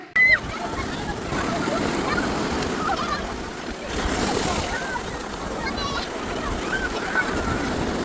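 Sea waves wash in steadily at Oho Beach, a continuous moderate surf roar with shrill voices and calls cutting across it now and then.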